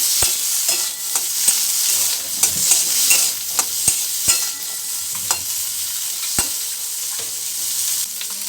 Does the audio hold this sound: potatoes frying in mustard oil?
yes